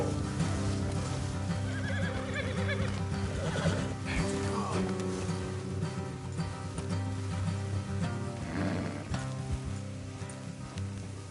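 A horse in the video game Red Dead Redemption 2 neighs and whinnies near the start over soft hoof clip-clops and a steady ambient hiss, with further quieter whinnies later in the stretch.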